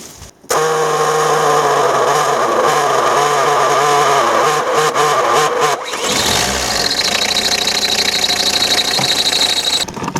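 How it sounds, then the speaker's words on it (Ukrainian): A Peugeot Partner 1.9D diesel engine cranks and fires up, settling into a loud, close, steady clattering idle with a brief shift in tone partway through; no one speaks. "Зараз іду в кабіну, запускаю двигун."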